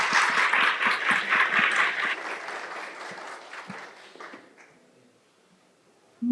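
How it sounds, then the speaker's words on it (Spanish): Applause from the audience at the end of a first panel discussion, dense clapping that slowly thins and fades to silence over several seconds. "les pediría un aplauso para esta primera mesa"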